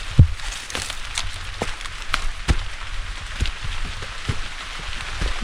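Steady rain falls on a mountain trail climbing from Aggala Dola toward the Sri Pada summit, a dense continuous hiss broken by scattered sharp drop taps, close and fairly loud, with no voices.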